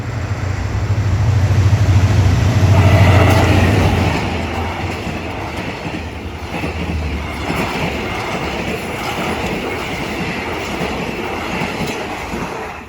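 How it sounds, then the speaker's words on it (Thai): Hitachi diesel locomotive number 4504 hauls rapid train 168 from Kantang to Bangkok around a curve, a continuous loud rumble with wheel and rail clatter that swells early, then eases into a steady roll as the train keeps passing. "ขบวนรถเร็วที่ 168 กันตังกรุงเทพ วันนี้ใช้เป็นฮิตาชิ สีฟงฟริ้งนะ 4504ทำขบวนเลยครับ"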